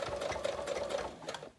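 A sewing machine stitches through a fabric journal pouch in one quick continuous run, its needle chattering rapidly and close by with a steady mechanical whir until it stops.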